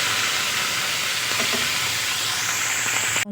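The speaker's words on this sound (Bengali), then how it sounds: "এই একইভাবে আমি সব মাছগুলো ভেজে নেব।" Fish frying in oil gives a steady, close, broadband sizzle and hiss with faint clinks midway, ending abruptly, no talk.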